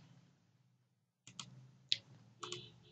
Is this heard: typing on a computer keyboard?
yes